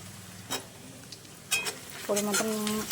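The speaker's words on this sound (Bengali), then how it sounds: "তো এখন আমি পেঁয়াজটাকে ভেজে নিচ্ছি।" Onion pieces sizzling in a pan with salt, with soft stirring scrapes and a few clinks from the cookware.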